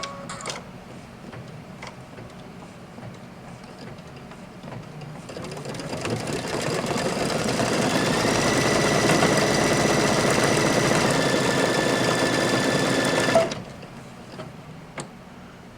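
A single needle embroidery machine stitches fabric, its rapid mechanical whirring and ticking ramping up, running steadily for several seconds, then stopping abruptly.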